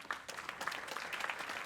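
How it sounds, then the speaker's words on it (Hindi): Audience applause welcoming the chief guest at a cultural festival ceremony, a steady, fairly distant patter of many hands clapping throughout without a break. "आपसे गुजारिश रहेगी जोरदार तालियों की"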